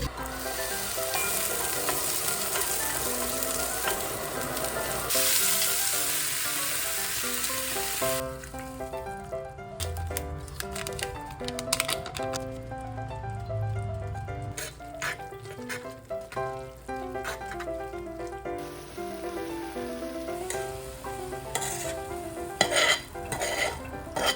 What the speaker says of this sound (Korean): 여기에 양파랑 버섯을 볶아서 넣으면 더 맛있을 것 같아가지고 한번 넣어서 해보겠습니다